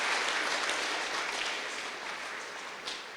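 A gathering applauds at a Brahma Kumaris get-together in a Gurugram hall, brisk continuous clapping from many hands, close and fairly loud, fading slightly over a few seconds.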